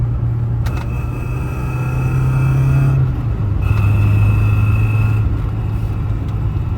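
A straight-piped BMW 318is four-cylinder car drives with a steady, loud engine drone and low rumble throughout, its pitch shifting slightly as it moves, with no talking.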